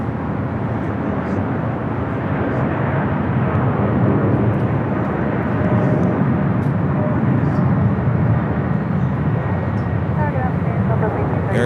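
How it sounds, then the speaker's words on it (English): An Air Tahiti Nui Boeing 787 Dreamliner makes its takeoff roll on runway 25 right at Los Angeles International Airport, a steady, fairly loud engine roar with voices talking over it. "Air Tahiti Nui, a Dreamliner, rolling down to 25 at right."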